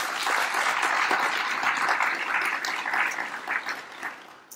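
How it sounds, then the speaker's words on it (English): Audience applause at a Greenville Chamber of Commerce State of the City luncheon, a steady dense wash of clapping from a crowd that holds strong throughout and thins slightly at the end. "let's give her a big round of applause."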